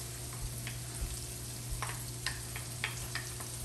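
Tomato, onion and chile fry quietly in a pan, giving a soft, steady sizzle with small crackles and pops throughout and no talking.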